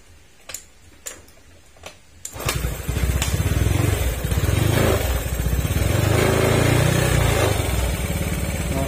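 A Honda Genio 110 scooter, recently fitted with a new rocker arm, sputters with a few ticks before its engine catches at about two seconds, then runs steadily at a loud, close idle with a ticking rhythm.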